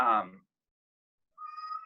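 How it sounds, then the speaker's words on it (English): A cat gives a short, clear meow. After a moment of silence a second, thinner tone follows. "that's my cat."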